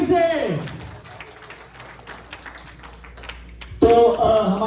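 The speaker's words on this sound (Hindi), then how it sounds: "सबसे पहले तो ऑडियंस एक जोरदार तालियां फिर से" Audience applause at a stage show: a sustained burst of clapping that rises out of a speaking voice, runs for a few seconds at moderate loudness, then gives way as talking resumes.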